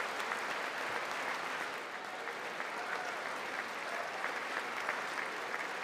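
Steady audience applause fills a large chamber at the State of the Union address, continuous and even, with no voices on top.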